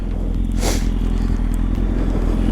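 A Kawasaki ZX-10R sport motorcycle, unridden for about a year, cruising down a street on a short test ride: a loud, steady engine drone close by with a brief passing whoosh and light clatter.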